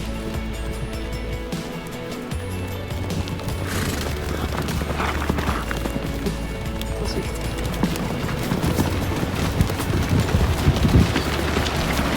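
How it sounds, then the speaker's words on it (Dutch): Wild horses galloping across a mountain pass in Kyrgyzstan, a continuous loud rumble of hooves with wind-like noise, dense and close throughout, no speech. "We worden achtervolgd door wilde paarden over de pas."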